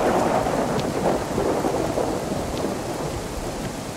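Steady rain pours with deep thunder rumbling throughout in the survival video game DayZ, a dense, continuous wash of rainfall that stays loud and close for the whole stretch, with no voices.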